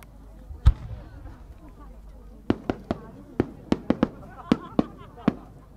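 Fireworks burst at the Omagari fireworks festival in 2023: one sharp boom, then a rapid irregular volley of about a dozen crisp, loud explosions echoing in the open night air.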